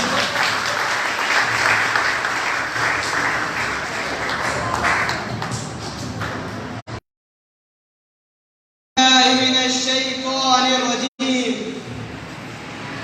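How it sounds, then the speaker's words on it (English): An audience at a college Defence Day event applauds for several seconds with dense, steady clapping, then falls silent; afterwards a single voice begins speaking over a hall-like ring. "Have a round of applause."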